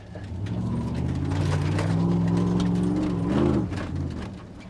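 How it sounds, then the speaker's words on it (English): A 1999 Dodge Ram pickup in two-wheel drive makes a U-turn, its engine droning steadily and close by as it climbs, with the pitch shifting a little toward the end of the turn. "she'll climb right out of there in two-wheel drive. Pull a little U-turn"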